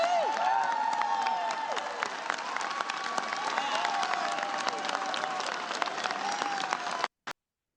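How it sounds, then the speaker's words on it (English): House of Representatives members applauding and cheering on the chamber floor, a dense continuous roar of clapping and voices that cuts off abruptly near the end. "They were all just cheering for groupthink."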